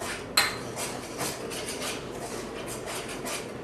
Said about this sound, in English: I'm going to add the dries, and I'm going to give it a mix